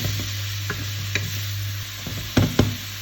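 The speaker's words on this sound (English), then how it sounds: "let's add in our carrot ribbons and our courgettes. And keep stirring." A utensil scrapes and stirs carrot ribbons and courgettes with duck in a sizzling pan for a keto stir fry, with a few sharp stirring knocks over a steady frying hiss.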